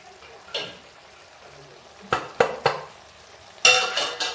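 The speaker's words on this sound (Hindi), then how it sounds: "अब इसको चला के हम देख लेते हैं, फिर से इसको मिक्स कर देते हैं।" A spoon stirs gobhi matar curry of cauliflower, frozen peas and crushed kasuri methi in a pan, giving several separate scraping clatters and a longer burst of stirring against the metal, with quiet gaps between.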